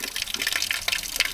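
Water runs and gushes up close for about a second and a half, a steady rushing fill with no voices.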